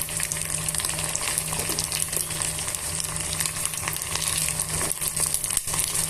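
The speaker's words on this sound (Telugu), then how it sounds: "ఇవన్నీ బాగా మిక్స్ చేసుకొని బాగా వేయించుకోవాలి పచ్చివాసన పోయేంత వరకు వేగనివ్వాలి" Masala sizzling and frying steadily in a hot pan for a brinjal and egg curry, a continuous close hiss with faint crackles and no talking.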